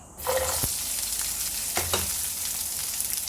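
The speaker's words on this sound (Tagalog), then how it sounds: "Pwede natin gisahin yung sibuyas." Onion sautéing in hot oil in a pan for chicken adobo, a steady close sizzle with a few sharp stirring scrapes and clatters, heard alone without speech.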